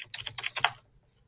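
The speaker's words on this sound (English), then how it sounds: "go to the web store and type out Extensity" Quick burst of about eight crisp keystrokes on a computer keyboard, close and fairly quiet, followed by near silence.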